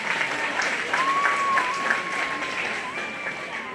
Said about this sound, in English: Let's give this round of exhibitors for the Budcast Show a nice round of applause.